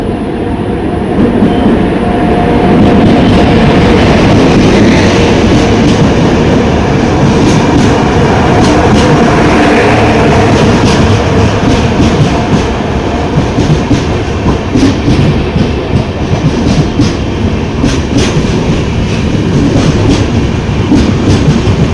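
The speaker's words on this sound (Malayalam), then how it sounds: "മുംബൈ ലോക്മാന്യ തിലക് ടെർമിനസിൽ നിന്ന് തിരുവനന്തപുരം സെൻട്രൽ വരെ പോകുന്ന നേത്രാവതി എക്സ്പ്രസ്." Netravati Express, a passenger train running from Mumbai Lokmanya Tilak Terminus to Thiruvananthapuram Central, passes close by with a loud, steady rumble and rhythmic clatter of wagons on the rails for the whole stretch.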